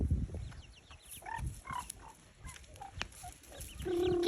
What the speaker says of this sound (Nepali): नानीको कुखुराहरू आयो अगाडि कुखुराहरू आयो